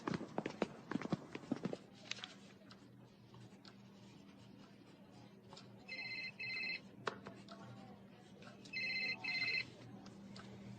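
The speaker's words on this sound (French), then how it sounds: "C'est le téléphone de qui?" A telephone rings in two short, faint bursts after some earlier clattering, with quiet room noise between the rings.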